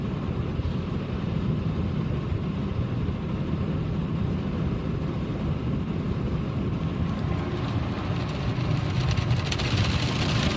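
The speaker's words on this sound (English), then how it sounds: "it looks like we are doing the wheel scrubbers too" Automatic car wash wheel scrubber brushes run at an Exxon soft-cloth wash with a Ryko Softgloss XS 2 system, a steady loud wash-bay rumble of motors, water and spinning brushes, with louder spraying hiss toward the end.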